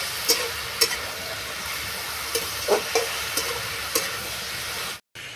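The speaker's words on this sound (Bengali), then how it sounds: "পেঁয়াজ লঙ্কা এবারে ভেজে নেব।" Onions and green chilies fry in a pan with a soft continuous sizzle, broken by a few light spatula scrapes and taps against the pan before the sound cuts off briefly near the end.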